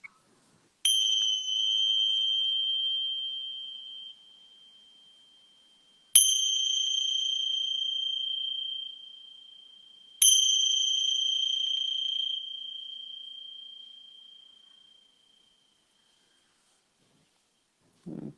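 A meditation bell is struck three times at spaced intervals, each clear ring sustaining and slowly fading in otherwise near silence.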